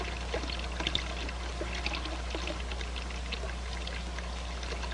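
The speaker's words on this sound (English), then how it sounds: "I reduce the volume flow at successive sections by bleeding water from the manifold." Water bleeds from a manifold in a fluid-flow laboratory experiment, giving a soft, continuous pouring and trickling over a low steady hum.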